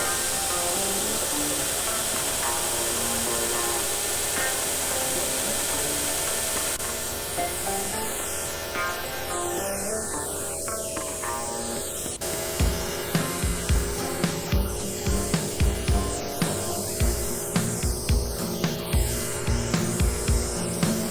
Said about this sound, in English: Now we're going to grind our handle to shape. This is dyed purple maple burl.